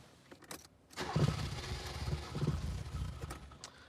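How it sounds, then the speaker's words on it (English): A Porsche 924 cranks and catches, its engine rising into a rough, close rumble with a loose exhaust smacking against the transmission tunnel, giving knocking thuds within the low roar and no talk. "I'm not happy with the noise the Porsche is making when I start the car"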